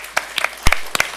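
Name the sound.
audience applause for a speaker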